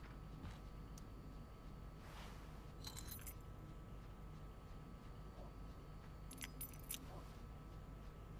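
Keys jangling in a video game, several faint metallic clinking bursts spread across a quiet scene, soft and somewhat distant over low background noise.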